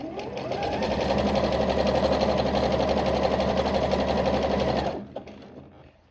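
A sewing machine runs a zigzag stitch attaching elastic to a skirt, one continuous close whirring burst of about five seconds with a rapid, even needle rhythm, then stops and the motor winds down.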